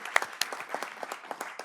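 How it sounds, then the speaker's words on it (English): Brief, scattered clapping from a small group at a board of education meeting, individual claps distinct and moderately near, with a faint voice underneath. "Let's give a nice round of applause to Mr. Mitchell-Williams."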